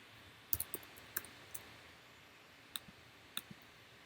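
Sharp, quiet computer mouse clicks arrive in a few irregular bunches against a faint steady room hiss, with no talking.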